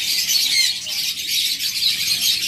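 Pigeons at a busy bird market, producing a dense, continuous wash of chirps and calls that stays loud and steady throughout.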